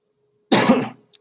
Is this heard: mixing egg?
no